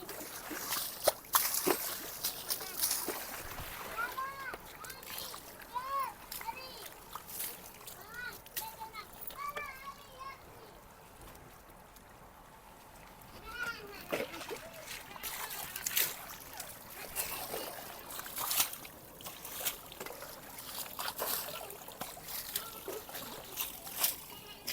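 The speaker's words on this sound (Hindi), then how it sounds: "यहाँ पे लगाते हैं पानी का छट्टा" Water is splashed by hand onto a buffalo being bathed outdoors, giving intermittent sloshes and splatters under frequent chatter from adults and children.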